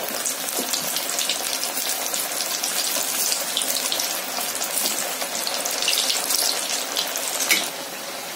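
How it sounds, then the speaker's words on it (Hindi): Raw banana pieces coated in gram flour batter deep-fry in hot oil, giving off a loud, continuous crackling hiss that swells slightly toward the end, with no voices. "अब हम एक एक पीस डालकर इसको फ्राई करेंगे।"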